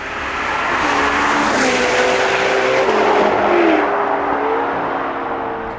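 A high-performance V8 sports car engine, a Ferrari 458 Spider or Jaguar XKR-S, roars loud and close in a sustained rev that climbs and then eases slightly, with no voices over it.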